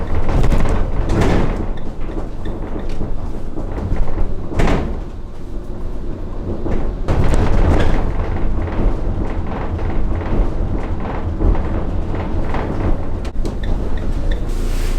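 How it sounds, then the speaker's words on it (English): Panels rattle and thump repeatedly in the back of a moving van without sound deadening, sharp irregular knocks and clatters over a constant low engine and road rumble. "I can really hear the rattling in the back already."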